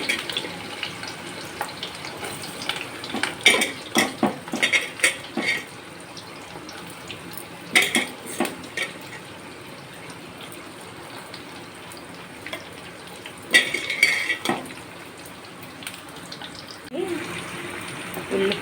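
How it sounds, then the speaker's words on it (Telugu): Onions tipped into a cooking pan and stirred while they brown, with close, intermittent bursts of clattering and sizzle over a steady background hiss. "ఇప్పుడు మనం ఉల్లిపాయలను వేసుకుందాం."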